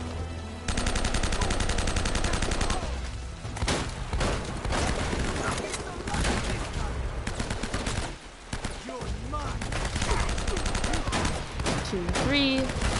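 Gunfire in the video game Uncharted: Drake's Fortune, during a boss battle, rattles in dense automatic bursts over loud background music, with a person talking intermittently.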